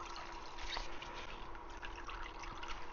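Water dripping and trickling from a Nash Solutions Filter Cleaner 2.0 as it is wrung out by hand, a steady close-up patter of drops and small splashes with no talking.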